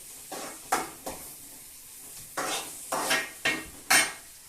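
Onion frying in a pan for crab curry, mostly heard as a series of loud metallic clatters and scrapes of a utensil against the pan, about eight knocks in uneven rhythm over a faint sizzle.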